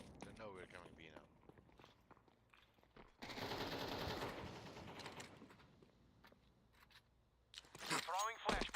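Counter-Strike 2 gunfire in a dense sustained burst, with scattered shots and footsteps around it, mixed under game sounds and a quiet voice.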